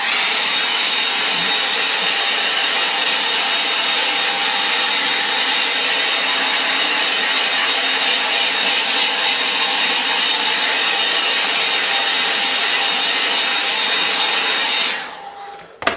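A blower-type dryer drying something off, a loud steady whirring roar running nearly the whole time before cutting off abruptly near the end, with no voices.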